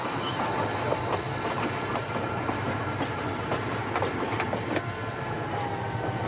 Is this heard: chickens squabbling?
no